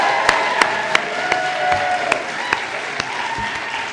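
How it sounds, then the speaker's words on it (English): An audience applauds award winners at an arts awards evening, a dense sustained round of clapping from a large crowd with occasional sharper claps standing out near the front. "can we have just one other big final round of applause for all of the winners this evening?"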